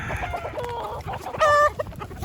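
Free-ranging backyard chickens clucking nearby in short, choppy bursts, with one louder call standing out among the flock.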